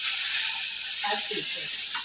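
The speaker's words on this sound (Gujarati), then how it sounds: "મમ્મી અત્યારે કઢી વઘારે છે." Kadhi is tempered in a hot pan at home, giving a steady bright sizzle and hiss with a few soft crackles and stirring sounds, close and continuous with no talk.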